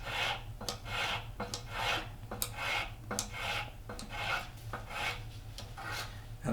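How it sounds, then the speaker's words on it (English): A metal file rasps across a handmade copper spoon in quick repeated strokes, close and steady, each pass a bright scraping burst with no talking. "I'm going to do a little bit more filing here"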